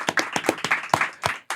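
Scattered clapping from a small audience at a talk show recording, sharp distinct hand claps in an uneven rhythm, close and loud, with no talking over them.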